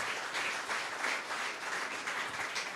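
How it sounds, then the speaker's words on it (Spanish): A church congregation claps together in steady, dense applause, close and fairly loud throughout, with no talking over it. "Dele ese fuerte aplauso a Rey de Reyes y Señor de Señores."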